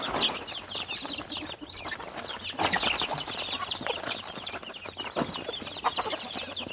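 Native hens cluck and chicks cheep in a constant, lively chorus at close range on a small poultry farm, with scattered sharper calls and no talking.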